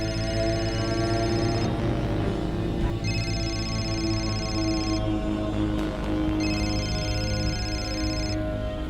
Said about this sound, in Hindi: घंटी की आवाज शायद ऊपर से आ रही है।